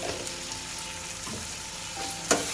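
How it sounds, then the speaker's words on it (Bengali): Spice paste for a lote fish jhuro fries and is stirred in a pan, giving a steady close sizzle with scraping stirs and a sharper clatter near the end, with no talking. "মশলাটাকে আমি আবারও ভালো করে মিনিট 3-4 কষিয়ে নেব"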